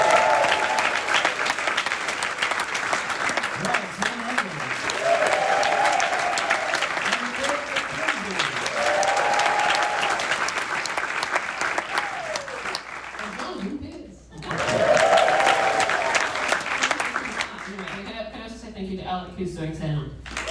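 An audience applauds guests at a live music show in Los Angeles, with steady, dense clapping that carries on for about twenty seconds. A voice speaks over the applause, which dips briefly near the end before swelling again.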